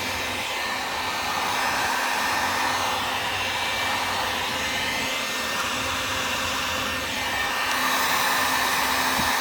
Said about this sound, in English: keep giving her the heat gun